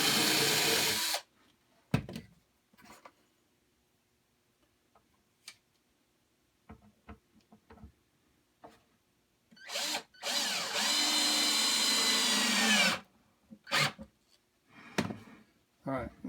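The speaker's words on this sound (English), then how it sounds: "So here, you just drill a pilot hole." Power drill boring a pilot hole in wood while building a beekeeping swarm trap, with two sustained loud whirring runs separated by gaps of small handling clicks and taps.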